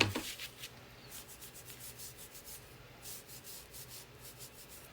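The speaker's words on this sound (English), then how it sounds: "I'm just kind of rubbing with the grain." A cloth rubs a small amount of paint into a wooden bench insert along the grain, making soft, quiet rhythmic strokes that repeat back and forth close by with no talking.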